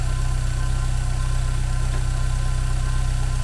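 A VW Golf Cabriolet engine idles steadily after a timing belt change, a loud, even low rumble with a fine regular pulse and no variation in pitch, running alone without talk.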